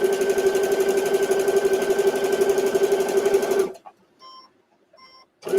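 A sewing machine stitches fabric for a microwave potato bag in a steady, loud, continuous run, then stops abruptly and leaves only a few faint clicks and small handling sounds.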